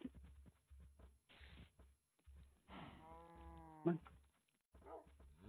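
Cows low in a Minecraft-style video game, several quiet moos and bleating calls spread across a few seconds at low volume, with one drawn-out call near the middle.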